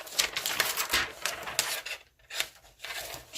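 Scissors cutting down a plastic sheet protector for a bookmark, close and quiet, with repeated rasping snips and rustles in an uneven rhythm.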